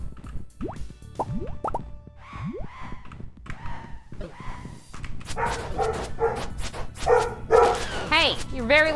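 A dog barks and yips several times in quick bursts, loud and close, with a person talking over it and a video game's soft sounds in the background.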